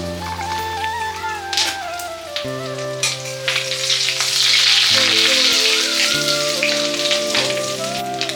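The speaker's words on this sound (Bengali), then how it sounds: "আমরা ডিমগুলো সব ভেজে নিলাম একটু একটু করে।" Fish roe frying a little at a time in hot oil, giving a steady close sizzle with fine crackling that swells midway, heard under tonal background music.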